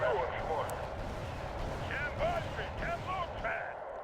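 Artillery and rocket fire rumbles in the Wargame: European Escalation war game. The booms are dull and distant, and a voice talks over them at times.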